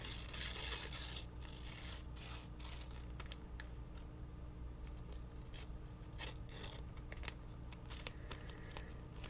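A thick sheet of paper being torn from a journal in a quiet room, a faint, drawn-out ripping rasp with small crackling bursts lasting several seconds.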